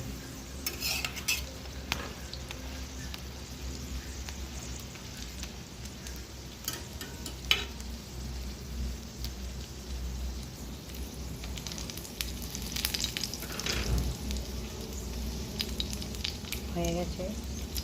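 Mughlai paratha frying in a pan, with a constant oily sizzle and occasional scrapes and clinks of a utensil stirring against the pan, while a voice talks quietly at times.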